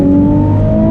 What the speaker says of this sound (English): Rev it all the way out